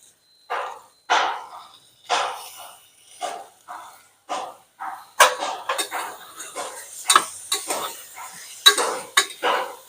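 Sprouted horse gram stirred and sautéed in a pan, producing a steady series of scraping, clinking utensil strokes against the metal, some sharp and close, with faint sizzling underneath.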